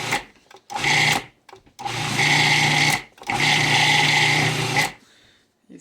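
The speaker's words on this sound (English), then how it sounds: "Then I'm going to pulse it and you're going to see it's going to start to chop this up from the bottom up." Blender pulsing to chop fresh parsley leaves, three loud whirring bursts of about one to two seconds each, separated by brief pauses, close and alone.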